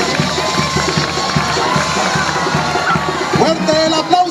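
A crowd at the 2013 Mocorito carnival cheers and claps, a dense continuous roar of voices and applause heard up close, with scattered shouts rising above it.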